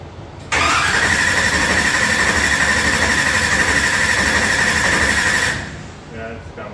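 An engine is cranked over for a long stretch, a loud, steady whirring churn that starts abruptly, runs for about five seconds without catching, then stops, with faint voices afterward.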